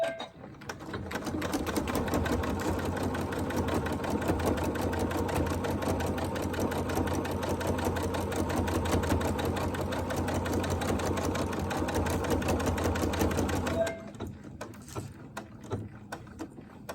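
A sewing machine stitches quilt rows for a Bouquet of Hearts quilt along a basting stitch, running as a steady, close, continuous whir for about thirteen seconds before stopping, followed by quieter handling sounds.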